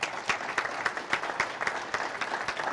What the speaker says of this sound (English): if everybody could give him a round of applause here